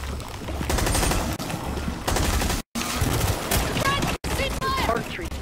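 Dense bursts of rapid gunfire rattle almost continuously in the co-op shooter Rainbow Six Extraction as players fire on anchor points, with sustained automatic volleys broken by two brief dropouts and a faint voice underneath.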